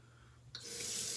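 Hot water from a tap bursts on abruptly partway through and keeps running in a steady, bright hiss, fairly close, with no voices.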